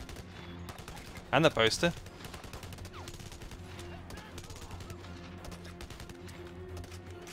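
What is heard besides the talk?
gunfire in video game Blackwater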